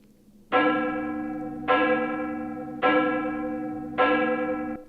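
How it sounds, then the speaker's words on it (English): Church bell tolls a funeral knell in four slow, evenly spaced strikes, each ringing out with a rich, lingering hum, heard clearly and alone. "Sound of a knell."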